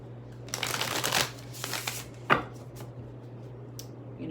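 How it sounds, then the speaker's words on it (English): Tarot cards being shuffled close by in a few quick riffling bursts, with soft taps and a sharp snap between them over a low background hum. "let me shuffle these cards."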